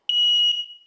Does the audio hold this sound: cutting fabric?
no